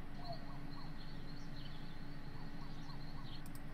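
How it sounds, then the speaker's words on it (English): Forest ambience sound effect for a Dungeons & Dragons session: faint, repeated bird chirps and owl-like calls drift over a constant low background hum, with no voices. "There's forest sounds."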